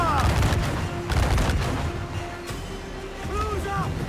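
Ship cannon broadside in Assassin's Creed IV Black Flag naval combat, a few heavy booming volleys near the start amid shouted crew voices and background music.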